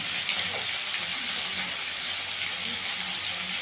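Potatoes and taro frying in a pan over a low gas flame, a steady close sizzling hiss that stays even throughout with no talk.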